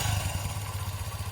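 A 1980 Honda XL80S small trail motorcycle engine after a kick start, running with a steady, low, pulsing putter and light mechanical clatter, close by, with no talking.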